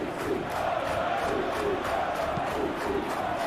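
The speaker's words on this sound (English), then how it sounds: "There is still movement in the crowd, plenty of people yet to take their seats." Stadium crowd murmur in the Football Life 2023 video game, a steady, dense wash of distant voices and faint calls filling the arena with no distinct peaks.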